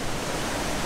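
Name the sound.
waterfall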